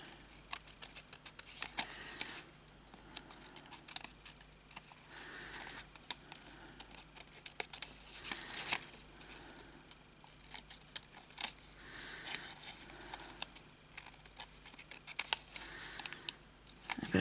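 Scissors snip through crewel embroidery fabric in a quick series of close, crisp clicks and slices, pausing irregularly while the shape is fussy-cut by hand, with no talking.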